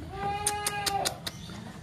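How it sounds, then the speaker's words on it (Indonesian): An Etawa goat with long ears and a big head bleats in a wavering, drawn-out cry, close and fairly loud, over steady outdoor background noise. "Ini namanya kambing Etawa."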